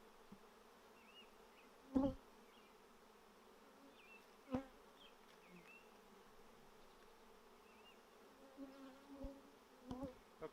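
Honey bees hum steadily in a hive, a soft continuous buzz with a few louder thumps and bumps of handling close by.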